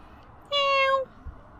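A cat gives one clear, close meow lasting about half a second against quiet background noise.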